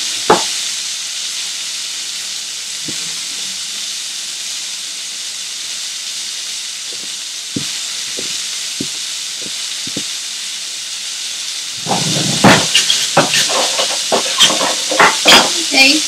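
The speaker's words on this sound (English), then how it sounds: "just let them fry on one side on low flame for about 2 to 3 minutes" Marinated coated prawns fry in a pan over a low flame with a soft steady sizzle and hiss, a few light clicks, then louder sizzling bursts and clatters as the pan is stirred near the end.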